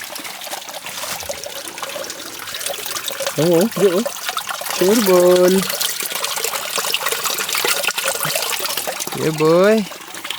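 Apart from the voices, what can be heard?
water trickling from a hose on a mountain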